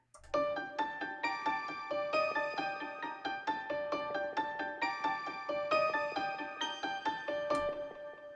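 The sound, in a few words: bell-type synth layered with piano melody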